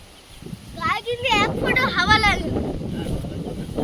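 Strong wind gusts through a home garden, buffeting the microphone with a low rumbling roar beneath close conversational speech.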